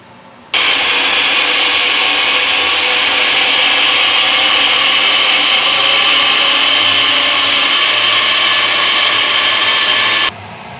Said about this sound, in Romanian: o să trecem prin un blender fiertura de butoi până o transformăm într-un piure